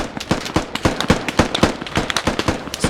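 Machine gun firing at a high rate in the Squad video game, a dense, continuous stream of loud, close gunshots hammering in rapid succession with no pauses.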